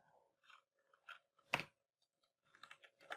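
Keys are pressed on a computer keyboard in short scattered bursts of crisp clicks with gaps between them, close and fairly quiet, with one sharper, louder keystroke cluster midway.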